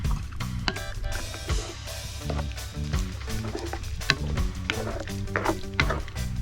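Stew peas cook in coconut milk in a pot with steady stirring and scraping clatter and a low simmering sizzle, close and continuous.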